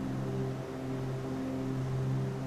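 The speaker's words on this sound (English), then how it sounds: "your left-hand engine seems to be running now" The left engine of a Cessna 310R twin piston aircraft runs steadily in Microsoft Flight Simulator, a constant low droning hum with no voices over it.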